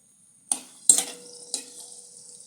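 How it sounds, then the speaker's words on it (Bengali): Two dried red chillies drop into hot mustard oil, giving three sharp crackling bursts at short intervals that each fade into a soft sizzle, close and fairly loud with no voices. "এবার আমি তেলে দিয়ে দেবো দুটো শুকনো লঙ্কা"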